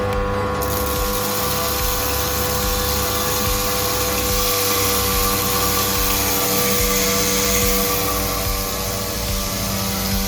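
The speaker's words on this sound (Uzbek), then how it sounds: "Bug'doyni maydalash turli setkada." A 220V electric grain crusher grinding wheat runs throughout with a loud, steady mechanical drone and a rough grinding texture, with no talk.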